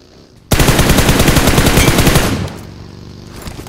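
Gunfire in a multiplayer battle video game: a loud, rapid automatic burst lasting about two seconds, then a quieter trailing rattle as it tails off, no voices.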